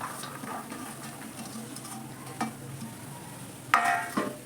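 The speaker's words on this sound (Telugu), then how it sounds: "ఇది వేసుకొని ఇప్పుడు మంచిగా కలుపుకోవాలి" Carrot, beans and onion for egg and soya chunk fried rice are stirred in a pan over a soft, steady sizzle, with a few louder scrapes and knocks of the spoon near the end.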